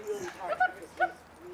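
A dog gives short whimpering yips and a small bark close by, with a person talking over it.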